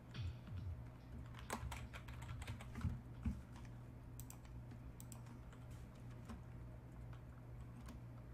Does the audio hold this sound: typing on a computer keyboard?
yes